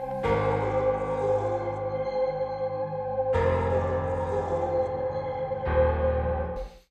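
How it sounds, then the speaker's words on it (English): A vocal chop sample from an Arcade preset, processed with effects, sounds as three long resonant, bell-like sustained tones that start abruptly one after another and ring alone at steady volume. "Just a little vocal chop."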